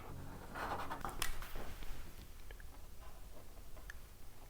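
Soft, close scratching of a marker tracing a cut line on a motorcycle windscreen during a 2024 ZX6 stunt build, with short strokes and light ticks, quiet and without talk.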